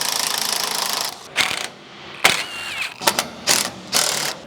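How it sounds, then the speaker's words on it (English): Close ratchet and wrench clatter loosens the bolts holding a pipe rack to a pickup truck bed, coming in short uneven bursts with metallic clanks and squeaks, while an air compressor hums steadily underneath. "first obviously I got to undo the bolts"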